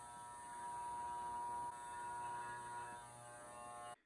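Electric hair clippers trimming hair during a home haircut: a steady, close mechanical buzz with a constant hum runs for about four seconds, then cuts off abruptly, with no talk.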